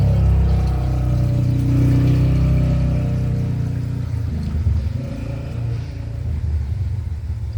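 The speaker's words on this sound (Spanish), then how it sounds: "El radiador nuevo que compramos, esto lo llenás de agua" Water pours steadily into a new car radiator with a loud, continuous gushing rush and low rumble that eases slightly partway through.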